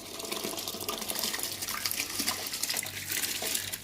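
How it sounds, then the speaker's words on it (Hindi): Soaked rice poured into a pot of boiling water while making chicken dum biryani, a steady close watery rush and splashing that runs throughout without talk. "अब इसी में ये भीगे हुए चावल डाल दीजिए, एहतियात से डालिए।"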